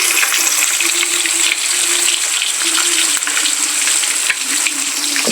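Large fish pieces fry in hot oil with a loud, dense, unbroken sizzle that crackles and hisses up close, staying steady throughout with no one speaking.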